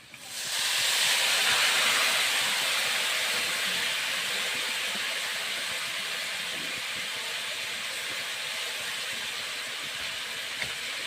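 A loud burst of hissing sizzle erupts as radish greens hit a hot pan with fried potatoes, then settles into a steady, slowly fading crackle.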